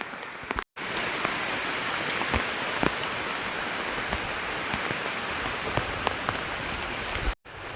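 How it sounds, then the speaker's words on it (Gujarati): Heavy rain pours down outdoors in a dense, steady roar of drops striking surfaces, close and loud, with two very brief cut-outs. "વરસાદ તમે જોઈ શકો છો ધોધમાર આવે છે"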